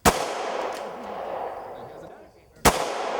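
Two sharp, loud gunshots about two and a half seconds apart, each a sudden crack followed by a decaying echo.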